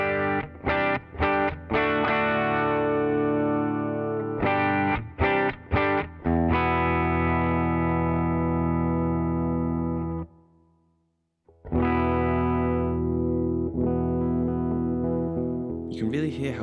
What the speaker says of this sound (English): Here's the bridge pickup on its own.